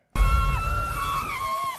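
Kate, a woman, screams in a single sharp, sustained, high-pitched cry lasting over a second, starting abruptly and holding with a slight waver.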